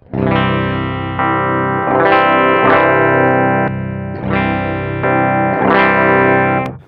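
An electric guitar plays through a drive pedal that boosts the mids and shelves off lows and highs, giving a distorted, chorus-tinged tone in several strummed chords that ring out one after another.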